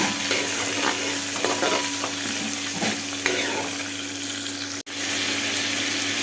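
Ginger, coconut pieces and curry leaves frying in oil for a Kerala pork fry, a loud, dense sizzle with stirring scrapes, steady throughout and briefly cut off near the end.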